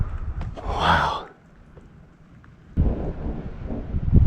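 Thunder from a lightning storm with bolts striking within a mile, a rumbling roll that swells and fades, then a second low burst of rumble later, heard outdoors.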